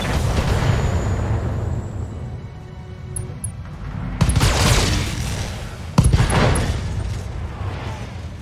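Mech weapons fire in the BattleTech video game, a rumbling fusillade followed by two sharp loud blasts with decaying booms, heard without talk.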